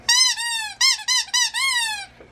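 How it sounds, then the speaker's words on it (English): A penguin squeak toy replica of Wheezy from Toy Story squeaks five times in quick succession, bright wheezy tones with short gaps between squeezes, loud, close and alone. "he's an actual squeak toy"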